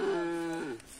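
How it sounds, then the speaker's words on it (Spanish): A dairy cow gives a single short, loud, tonal moo while being milked by hand in a remote rural area of Ecuador, heard close and alone. "Aquí aprendiendo a sacar leche de la vaca."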